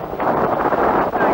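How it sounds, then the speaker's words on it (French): Strong wind blows hard against the microphone in the evening outdoors, a loud gusting roar that buffets the sound throughout. "Oh, ce vent, nom de Dieu!"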